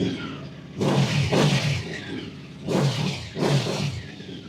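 QJMotor SRV 600V motorcycle with a V4 engine, already warmed up, revved in two pairs of short bursts with idle between, loud and close, the revs capped around 5,000 RPM.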